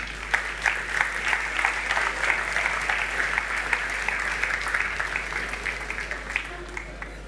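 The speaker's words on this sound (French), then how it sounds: "j'aimerais, s'il vous plaît, que vous accueilliez avec vos applaudissements Monsieur Gérald Métros" Audience applause at an awards ceremony for workplace integration prizes, a steady sustained round of many hands clapping filling the hall, moderately loud, without talk over it.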